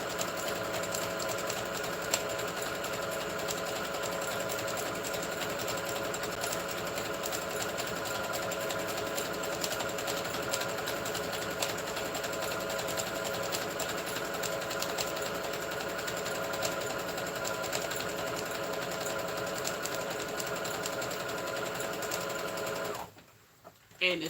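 A sewing machine stitches fabric in a steady, continuous mechanical whir that runs loud and unbroken for over twenty seconds, then abruptly stops.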